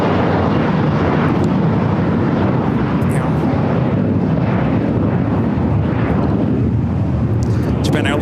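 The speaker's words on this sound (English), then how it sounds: "Japan Airlines E350-1000, the flight heading back to Tokyo Haneda." A Japan Airlines Airbus A350-1000 jet roars loudly and steadily at LAX, a dense broadband rumble held throughout with wind buffeting on the microphone.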